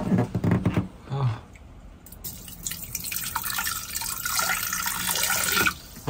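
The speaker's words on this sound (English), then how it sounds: "I'm gonna try and pour some vinegar in it." Vinegar poured into a boat's toilet bowl splashes close by in short bursts, then runs as a steady trickling stream with drips.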